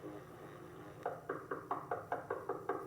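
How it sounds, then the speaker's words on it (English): Steady, insistent banging on a door, about ten evenly spaced knocks in a row, loud and close over a low background hum. "The banging at the the door woke me up."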